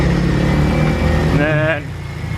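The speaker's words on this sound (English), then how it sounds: "So you can hear typical valve train noise if you listen." A Corvette engine runs steadily at idle with a dense mechanical hum and ticking from the valve train, loud and close, with a brief tonal whine partway through before the sound eases slightly.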